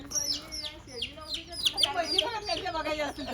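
Village chickens cluck close by in quick, repeated bursts, several calls overlapping and tumbling into each other.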